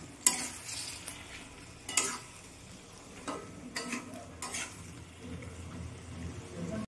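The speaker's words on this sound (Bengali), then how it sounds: "অল্প আমি একটু জল দেব, জল দিয়ে আমি নেড়ে চেড়ে আর একটু কষিয়ে নেব।" Spoon stirring through a pan of Bengali jackfruit and prawn curry as a little water goes in, with a few sharp scrapes and clinks over a low, steady sizzle.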